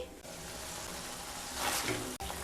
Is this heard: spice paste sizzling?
yes